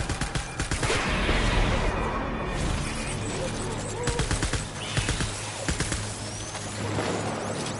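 Gunfire in Death Stranding, bursts of rapid shots in rough clusters mixed with impacts and shattering, fairly loud and close, with a voice speaking among the shooting.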